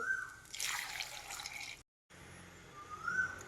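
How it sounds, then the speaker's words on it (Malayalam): Half a cup of water is poured into a pan while cooking a raw mango and drumstick curry, a short, faint splashing rush, then a brief silence and a quiet, dripping trickle. "1/2 കപ്പ് വെള്ളം ഒഴിച്ചു."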